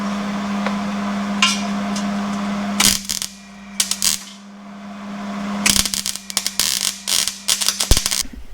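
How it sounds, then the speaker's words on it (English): An M416 military trailer being welded: a steady electrical hum broken by loud, close crackling bursts, short at first, then longer sputtering runs. "I'm gonna fire up the welder and try to get that done"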